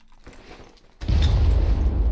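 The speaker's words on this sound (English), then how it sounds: "That grenade took like 5 minutes to explode." A grenade explosion in the Far Cry video game hits as one sudden loud boom about halfway through, followed by a sustained heavy low rumble that stays loud to the end.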